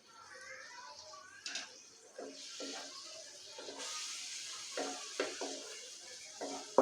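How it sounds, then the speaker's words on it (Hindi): Soft sizzling and crackling of garlic frying in butter and oil in a pan, with occasional stirring clinks and scrapes over a steady hiss. "लहसुन को हम थोड़ा सा फ्राई कर लेंगे"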